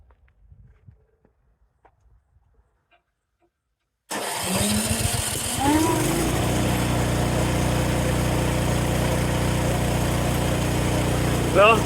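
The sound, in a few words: small gasoline engine running after restart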